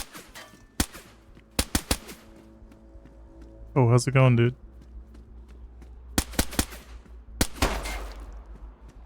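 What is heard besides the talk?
gunshots in DayZ video game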